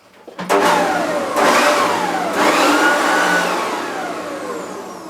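An electric garden blower starts up and runs with a loud, steady motorized whine and rushing air, pitch shifting slightly as it is moved.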